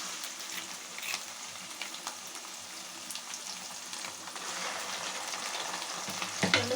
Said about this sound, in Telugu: ఇంకా ఫ్రెండ్స్ అల్లం పేస్ట్ వేగింది